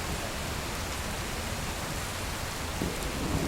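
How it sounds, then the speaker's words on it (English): Steady rain hisses evenly and fairly loud throughout a dark fantasy video game, Testament: The Order of High Human, as a continuous wash with no voices. "So now the rain is on my right side."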